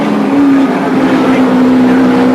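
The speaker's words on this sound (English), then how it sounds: "To give you some idea of the sorts of stresses that go through this little 4-cylinder turbo" A little 4-cylinder turbo touring car races at a 1986 circuit round, its engine a loud, sustained buzzing drone with a steady pitch, heard up close beneath faint commentary.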